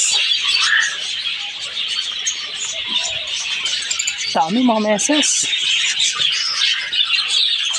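Many birds chirping and twittering in a dense, continuous chorus in the Balesin aviary, with a person speaking briefly in Filipino over the chatter.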